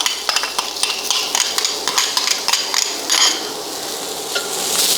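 Onion and garlic being moved around a hot, olive-oiled new pan for paella, with a crackling sizzle beneath rapid, repeated utensil scrapes and taps against the metal, close and fairly loud.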